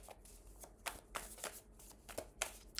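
A tarot card is laid down over another card, a close run of crisp paper slides, flicks and taps repeating quickly without any talking.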